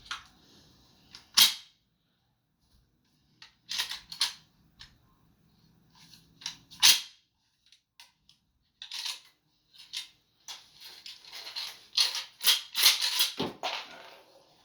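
A round is unloaded from the chamber of a Kalashnikov USA KS-12 shotgun, giving a scattered run of sharp, close metallic clicks and clacks with quiet gaps between them and no talking.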